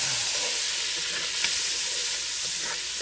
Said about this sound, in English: Throw that in there. Let's get our spoon. Stir that around a little bit.